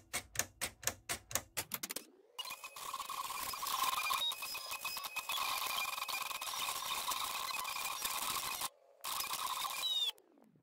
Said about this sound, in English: just go ahead and hit send, and your machine will start cutting.